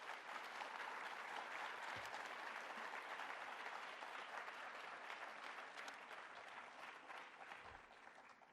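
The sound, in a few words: audience applause for senior award students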